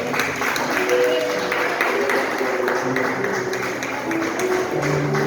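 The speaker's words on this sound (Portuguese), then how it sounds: "Bate palmas no nome do Senhor." Church congregation clapping together during a Sunday missions service, a dense, continuous wash of many hands at a steady pace, with voices and singing mixed underneath.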